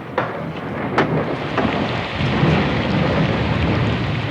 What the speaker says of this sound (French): Tu devrais rentrer, voilà l'orage.